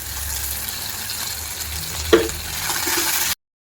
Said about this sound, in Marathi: कांदा छान परतत आलाय, तुम्ही बघू शकता लालसर होतोय.